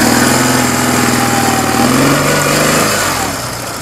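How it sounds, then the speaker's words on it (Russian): A small motorcycle engine idles steadily and close in freezing weather, a buzzing rattle with slight revving, fading a little at the end. "Пусть мотоцикл работает"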